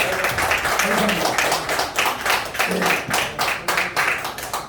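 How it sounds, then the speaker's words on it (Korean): An audience claps after a lecture at an event with refreshments, producing a run of crisp, irregular hand claps under a speaking voice that swells in the middle and continues to the end. "다시 한번 뜨거운 박수 한번 보내주십시오"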